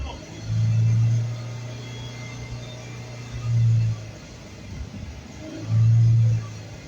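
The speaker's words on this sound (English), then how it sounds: "What if you like hold the rev for a little bit?" A carbureted car engine idles with a low rumble and is revved three times. The first rev is held longest and the revs are spaced a couple of seconds apart. Each rev rises to a loud, droning hum close by.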